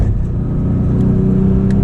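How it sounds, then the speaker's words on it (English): A Porsche 911 with sport exhaust in sport mode drones loudly and steadily close by, with only faint hints of crackle as the throttle lifts. "as soon as I let off the gas, you hear those crackles"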